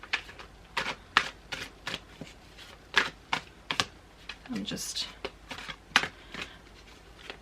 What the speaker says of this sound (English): But first, I need to pick my cards.